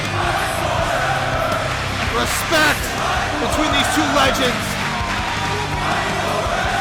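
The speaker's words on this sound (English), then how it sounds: "Listen to this crowd." A wrestling arena crowd roars and cheers in a loud, steady wash of voices, with occasional thumps and shouts rising out of it, while a commentator talks over the noise.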